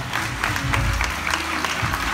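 Convention audience applauding, uneven clapping with scattered sharper hand claps over a low rumble of the room, moderately loud and continuous.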